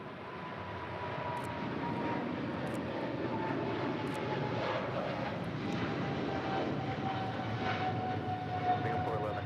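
A Boeing 747-8 at Los Angeles International Airport gives off a steady, moderately loud engine drone with a faint tonal whine, heard from a distance under occasional talk and radio chatter.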